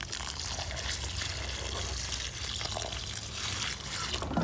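Rainwater pours steadily from a container onto the soil around a newly planted American persimmon tree, a continuous close trickling splash with no talk over it.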